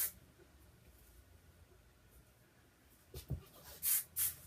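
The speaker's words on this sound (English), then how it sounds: "give it a little more spray with the fabulous AWG Wild Ginger finishing spray" Several short hissing bursts of finishing spray onto hair near the end, two longer puffs close together, after a quiet stretch of faint rustling.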